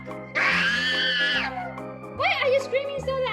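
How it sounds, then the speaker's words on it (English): A loud, sustained high-pitched scream from a puppet character in a children's animal figurine show, followed by excited, warbling vocal bursts with steady background tones underneath. "Why are you screaming so loud?"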